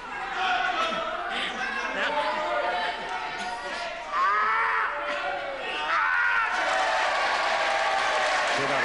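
Crowd applause and cheering at a televised British World of Sport wrestling match, a steady continuous roar that swells at times, with a commentator talking over it throughout.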